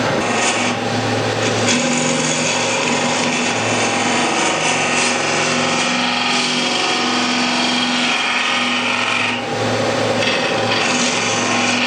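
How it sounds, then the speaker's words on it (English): A skew chisel scrapes a polyurethane bowl spinning on a wood lathe, giving a steady, loud, continuous rasping hiss with a faint motor hum and no pauses or speech. "just scraping here with a skew chisel"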